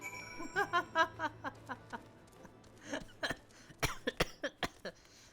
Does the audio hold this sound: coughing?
yes